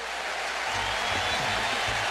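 A Yankee Stadium crowd roars steadily during a 2007 Indians playoff game, a broad, continuous wash of cheering that holds at an even, loud level throughout.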